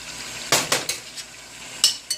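Chicken and vegetables going into a hot pan for a Spanish goulash, with a few sharp metallic knocks and scrapes of a utensil against the pan in irregular bursts, close and clear, over a faint sizzle.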